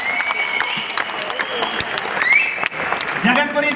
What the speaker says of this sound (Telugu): ఒక్కసారి ప్రదీప్ సార్ కు గట్టిగా చప్పట్లు కొట్టాలి